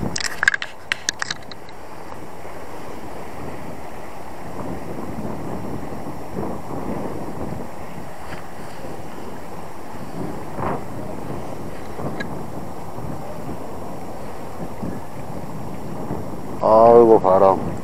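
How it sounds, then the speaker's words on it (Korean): Wind buffets a fishing boat during sea bass and octopus lure fishing, with a constant rumbling roar throughout, a few sharp knocks at the start, and a brief voice rising near the end. "아이고 바람."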